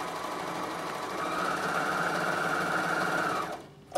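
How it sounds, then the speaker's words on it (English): A Bernina sewing machine stitches a rolled hem in fabric, giving a close, loud, steady mechanical whir with rapid needle rhythm for about three and a half seconds before it stops. "I'm doing rolled hemming, so it's going to roll the fabric into my seam"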